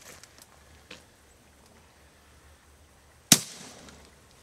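A single sharp gunshot fired to kill an alligator outdoors, loud and abrupt with a short ringing tail, after a few faint knocks and ambient noise, no talk.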